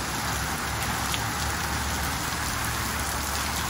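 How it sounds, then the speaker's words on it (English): Steady, dense rain falls outdoors before a dive, a continuous even hiss of drops on surfaces throughout with no voices. "Well, it's still raining, so can't get in the water yet."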